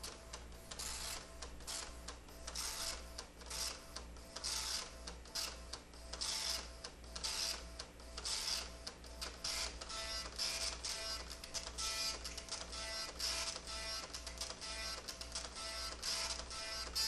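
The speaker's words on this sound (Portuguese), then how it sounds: "Então eu vou ligar a impressora segurando fonte, tá?" An Epson LX-300 dot matrix printer starting up buzzes and rattles steadily for several seconds, a dense mechanical chatter with an underlying hum and rhythmic clicking, close and loud.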